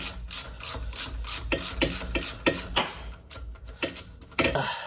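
A ratchet clicks in quick bursts while tightening a bolt on the new rear wheel bearing of a 2018 Subaru Forester, a close, rhythmic pawl chatter with short pauses between strokes and metallic clanks.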